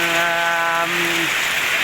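Rain falls at a home in a steady, loud hiss, with a sustained bleat-like tone over it for the first second.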